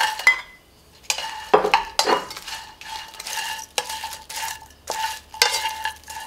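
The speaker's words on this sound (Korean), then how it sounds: "디포리와 멸치를 2분간 팬에 볶아 비린내를 날려주고" Dried big-eyed herring and anchovies are dry-roasted in a pan, with a spatula giving repeated scraping, rattling strokes in uneven bursts, close and moderately loud, with no talk.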